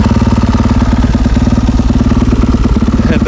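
A Husqvarna FC450 dirt bike idles steadily outdoors in the woods, its single-cylinder engine throbbing loud and close with an even, rapid pulse throughout.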